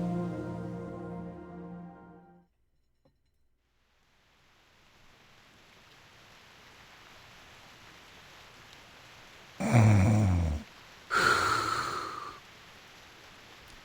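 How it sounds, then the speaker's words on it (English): Two breathy snores, loud and close, come from a snoring apple in Reverse 1999 about a second apart over soft rain-like hiss, after a fading musical tone and a stretch of near silence. "It is snoring. This apple's fucking snoring."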